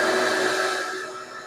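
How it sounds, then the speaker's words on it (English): A vacuum cleaner in a workshop hums steadily, whining as it draws air through a dragster chassis used as a breather, then fades slightly toward the end. "going to turn on a vacuum cleaner in the back"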